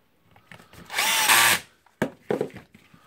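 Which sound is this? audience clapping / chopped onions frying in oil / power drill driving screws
power drill driving screws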